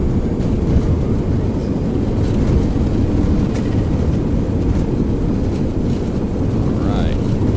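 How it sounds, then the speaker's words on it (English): Airliner thrust reversers roaring after touchdown in a flight simulator, a loud steady rumbling wash that holds throughout at close range. "Reversers are out."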